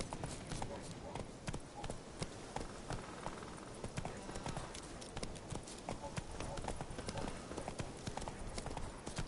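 Horse hooves galloping in The Witcher 3 Wild Hunt, a fast rhythmic clip-clop that stays close and steady throughout, with a voice talking over the hoofbeats.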